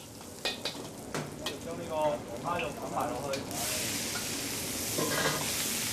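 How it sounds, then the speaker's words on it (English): Kung Pao lobster meat, vegetables and sauce are stir-fried in a hot wok, making a loud sizzle with scraping tosses of the spatula, and the hiss swells into a bright steady roar near the end. "Then stir up vegetables, sauce, and lobster meat."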